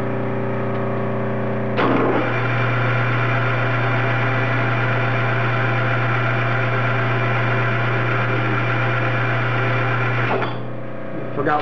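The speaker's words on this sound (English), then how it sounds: "we're going to turn the lathe at, right now, 500 RPM to start turning this down" A metal lathe runs at 500 RPM turning down a rifle barrel for a .375 CheyTac, giving a steady, loud machine drone that starts abruptly and holds evenly for about eight seconds before cutting off.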